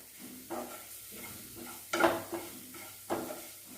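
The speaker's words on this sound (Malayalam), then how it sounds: "ഇത് നമുക്ക് നന്നായി വഴറ്റി" Mushrooms being sautéed with ground black pepper in a pan, with a few sharp scrapes and clinks of a spoon stirring over a soft background sizzle, no talking.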